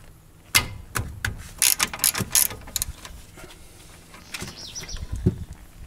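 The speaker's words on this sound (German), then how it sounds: "Ich löse immer beide Schrauben erst an." A ratchet with a 7 mm hex bit loosens the brake caliper bolts on an Audi A3, giving sharp clicking bursts and a metallic crack, followed by quieter fiddling noises with faint birdsong in the background.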